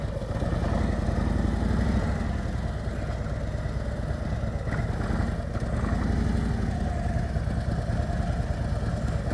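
A motorcycle rides at slow speed during advanced riding-skills practice in Maryland, its engine a steady, loud, low idle-like drone with gentle throttle swells throughout.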